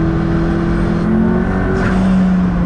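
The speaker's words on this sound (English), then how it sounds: "like this motor itself sounds really really good" A car engine with a roof scoop idles and revs close by, a steady loud droning tone with a slight rise in pitch partway through, heard alone without talk.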